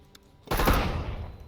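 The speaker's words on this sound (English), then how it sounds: "Bangs out, entering the hallway," A flashbang goes off during a room entry in Door Kickers 2, a single loud sudden blast after faint quiet, followed by a sustained crackling roar of gunfire and ringing noise that fades slowly.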